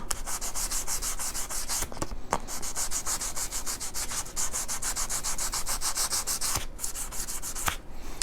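Sandpaper rubs back and forth over the frets of a 2019 Fender Deluxe Nashville Telecaster fretboard in quick, even, close strokes, with a few short pauses between passes.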